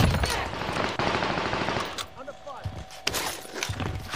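Rapid gunfire in the Warzone battle royale game, bursts of shots mixed with thuds, heard under and between excited voices talking.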